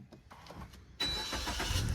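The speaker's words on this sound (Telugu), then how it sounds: "సో నేనైతే ఇంజన్ అయితే స్టార్ట్ చేస్తున్నా." A 2017 Maruti Nexa Baleno Zeta engine cranks and catches about a second in, jumping from quiet ambience to a loud, steady running roar.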